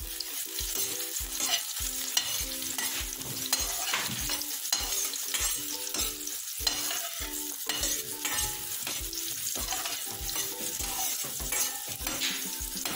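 Garlic and onion sautéing in a pan, a steady close sizzle with frequent spatula scrapes and clinks as the mix is stirred.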